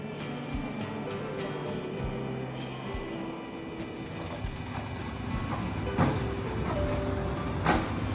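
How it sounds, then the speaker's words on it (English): A city bus in Seoul rumbles steadily from inside, with engine drone, road noise and occasional clunks and rattles, loud and continuous. "So just taking the bus today."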